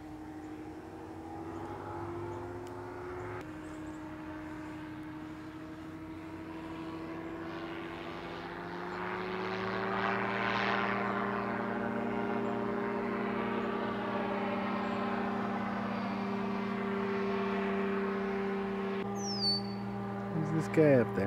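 A propeller airplane drones overhead, a steady distant hum with sustained engine tones that swell slightly as it passes and then hold, moderately faint throughout.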